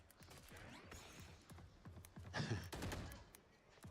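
Rapid gunfire bursts in a competitive video game match, crackling shots clustered mid-clip over a busy bed of in-game noise, with scattered single pops before and after.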